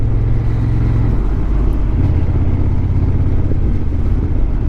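Honda NT1100 DCT motorcycle filtering slowly through traffic, a steady loud low engine drone and road rumble continuing throughout with no talk.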